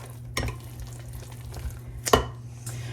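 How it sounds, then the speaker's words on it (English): A spoon stirs thick savory snack batter in a bowl, a low steady scraping with two louder knocks against the side, close and alone without talk. "And just stir to incorporate."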